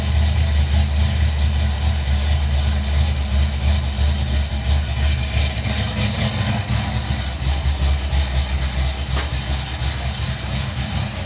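A car engine idles loudly and close after being given gas, a steady low rumble that holds throughout with slight rhythmic pulsing and no talking.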